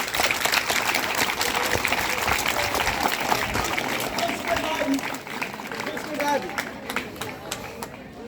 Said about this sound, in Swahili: Pigie makofi mengi sana